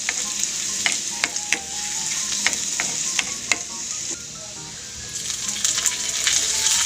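Garlic frying in a pan with corned beef for gisadong corned beef with kangkong, a continuous sizzle punctuated by sharp spatula clinks and scrapes, dipping briefly before rising again.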